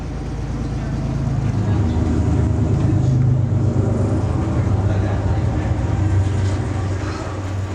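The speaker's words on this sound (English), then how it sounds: "We had to stop again, not for another freight train, but for the Westbound Empire Builder." Westbound Amtrak Empire Builder passenger train led by a BNSF GEVO locomotive passing close by, a heavy continuous rumble and rolling clatter that swells and stays loud for several seconds.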